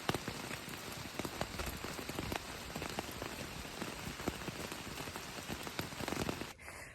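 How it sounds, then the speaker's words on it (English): Hard rain pounds down on a ridge-top campsite during a midnight thunderstorm on the Appalachian Trail, a dense steady drumming of drops on a close surface, with no voices, cutting off abruptly at the end. "hard rain, lightning out the wazoo"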